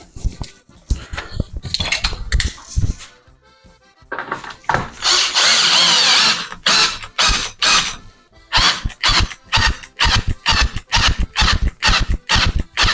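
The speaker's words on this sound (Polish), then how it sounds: "wkrętarka nie ma siły" A cordless screwdriver drives screws while a bathroom door is being mounted, loud whirring bursts in quick stops and starts, one longer straining run in the middle, close and with no talk.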